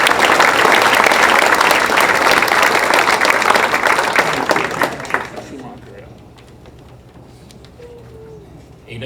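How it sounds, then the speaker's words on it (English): Audience applause at a college coaches hall of fame induction ceremony, loud and dense for about five seconds, then tapering off into quieter room noise. "So with that, another round of applause,"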